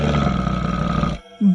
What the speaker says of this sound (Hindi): तभी वह बंदर गुर्राने लगता है।